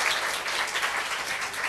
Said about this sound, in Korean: 우리는 우리 병을 치료하기 위해서 채찍에 맞은 예수님께 감사의 박수를 좀 올려드릴 필요가 있어요